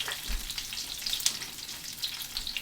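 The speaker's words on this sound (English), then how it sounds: "So our oil's getting a little bit warmer, so let's go ahead and add in some tater tots. Oh yeah, listen to that." Tater tots frying in hot oil, a steady close crackling sizzle with bright popping throughout, no voices.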